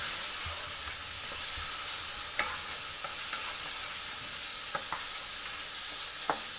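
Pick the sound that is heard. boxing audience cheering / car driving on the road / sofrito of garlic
sofrito of garlic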